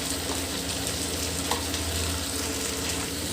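Spices cooking in oil in a pan for a thin fish-roe curry sizzle with a steady, dense crackle that runs unbroken and close throughout, with no voices over it.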